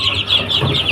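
Young chicks that have been kept thirsty and hungry since morning make several short, close, loud clucking calls in quick succession, with nothing else audible around them.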